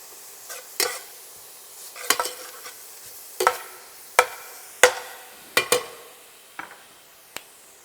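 Onion and garlic cook in olive oil in a pan, with a soft sizzle under a series of sharp, irregular spatula scrapes and knocks against the pan, close and alone.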